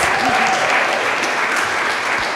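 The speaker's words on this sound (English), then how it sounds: "A round of applause" Loud, dense applause fills a hall at a university new venture challenge finals as the crowd welcomes the next startup team, a continuous wash of clapping with no pauses.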